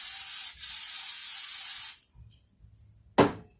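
A long, sustained aerosol hiss of hairspray on a wig, briefly interrupted, then stopping, followed by quiet handling noise and one short final spray burst.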